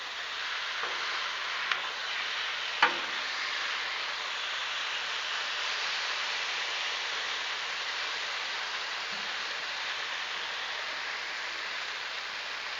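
Onions and broccoli soften on a hot Blackstone griddle, giving a steady, even hiss of sizzling throughout, with a couple of faint clicks and no talking.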